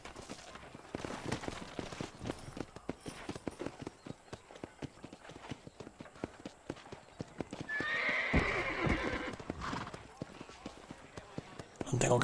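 A horse gallops in the Red Dead Redemption video game, steady rapid hoofbeats with a loud neigh partway through, under someone speaking Spanish.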